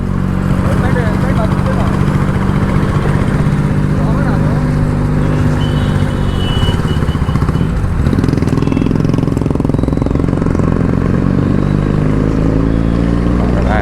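A Benelli 300i motorcycle on the move gives a loud, continuous engine drone mixed with wind rumble, with people talking over it throughout.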